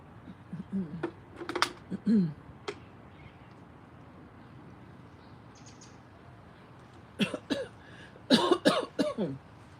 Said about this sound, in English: you hear that little coughing thingy?